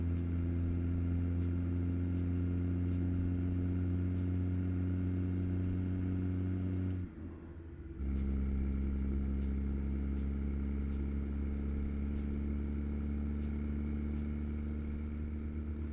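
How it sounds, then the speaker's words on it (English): A truck engine in American Truck Simulator drones steadily at a constant pitch, dipping briefly partway through before resuming its even, close-up hum, with no voices over it. "And the sounds of this engine is so cool."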